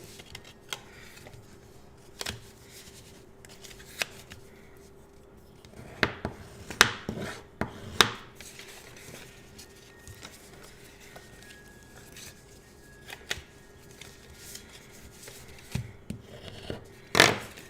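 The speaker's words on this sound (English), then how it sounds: "Now I'm just going to bone fold these, and then we have to do a little snipping." Scissors snip through folded paper in a craft project, a series of sharp, close clicks and cuts, some in quick pairs, spread over low rustling and a faint steady hum.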